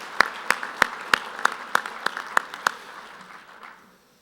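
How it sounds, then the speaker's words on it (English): Sparse, evenly spaced claps from a convention audience at an American Quarter Horse Association meeting honoring its directors, about ten distinct hits over a few seconds before fading into quiet room tone. "Let's give another round of applause for all of our Directors Emeriti and Directors at Large."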